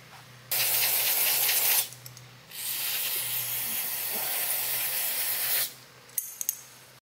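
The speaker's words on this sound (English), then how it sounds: "I'll take some brake cleaner and clean this thing out real well." Brake cleaner is sprayed from a can onto parts of a Ford Autolite 2100 carburetor, two loud close hissing bursts, the second one longer, followed by a few light clinks.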